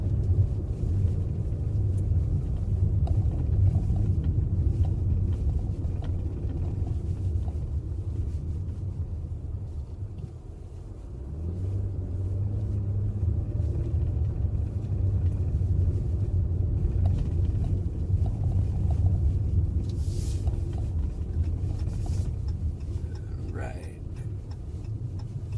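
2014 Jeep Cherokee 4x4 in winter conditions, with a steady low cabin rumble from engine and road that persists throughout, dipping briefly midway, with no clear speech over it.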